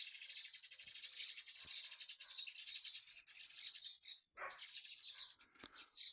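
A flock of sparrows chirping outdoors: dense, continuous, overlapping high twittering from many birds nearby, with a few brief pauses and soft knocks.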